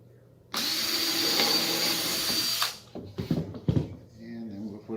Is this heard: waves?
no